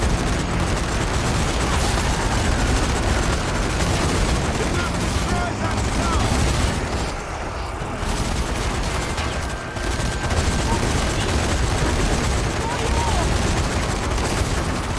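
Dense, continuous gunfire and explosions from the zombie shooter video game Zombie Army 4: Dead War, with rapid automatic bursts that barely let up, loud and close, under occasional player chatter.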